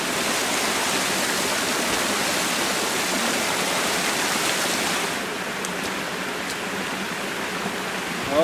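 A small waterfall in Savage Gulf, Tennessee, pours with steady, dense broadband rushing, close and loud, easing slightly in the last few seconds.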